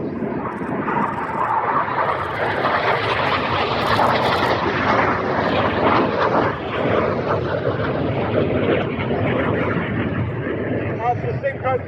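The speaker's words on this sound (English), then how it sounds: "Once again, each aircraft down at only 100 feet." Red Arrows jets pass low at about 100 feet during an airshow at RAF Cosford, producing a loud, sustained engine roar that swells and fades slightly while an announcer talks over it.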